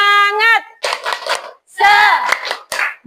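A class of children performs a rhythmic spirit clap, tepuk semangat, in quick bursts of patterned clapping between loud chanted voices, the group shouting in unison around the claps.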